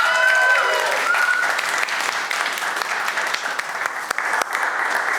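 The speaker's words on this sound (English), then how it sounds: "let's give them a round of applause." Steady applause from an awards ceremony audience, dense and continuous throughout with a brief voice or tone near the start, sustained at an even level without letting up.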